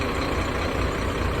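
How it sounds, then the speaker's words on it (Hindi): A Scania B9R 9400 sleeper-converted coach with Prakash bodywork rumbles steadily close by, its diesel engine a loud, even drone with no breaks and no talk over it. "इंजन का आवाज़ देखो कितना स्ट्रॉन्ग है"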